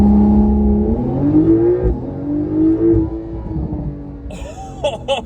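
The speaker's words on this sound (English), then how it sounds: "One more 0 to 60 launch right here because we're at a stop sign" A Porsche 911 Carrera S makes a hard launch from a stop, its engine roaring loud and close as it climbs through the revs, with a gear change that briefly drops the pitch before it pulls again. A tyre or squeal-like chirp follows at the end.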